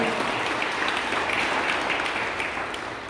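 Applause from an audience at a memorial service for an archbishop in Nairobi, a dense steady clapping from many people that fades slightly toward the end.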